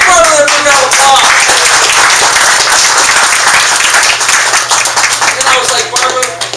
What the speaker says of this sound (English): Give Barbara a big round of applause.